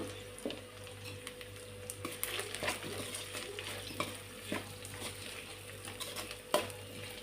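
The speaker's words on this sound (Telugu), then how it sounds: "ఒకసారి కలబెట్టుకుందాం కదా చామగడ్డలు మొత్తం మంచిగా ఫ్రై అయిపోయినాయి" Taro root pieces frying in a pan with a soft steady sizzle, stirred by a utensil that makes light scraping and clinking strokes throughout, close but fairly quiet, with no speech.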